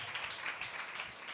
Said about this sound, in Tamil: கைத்தட்டி சந்தோஷமா.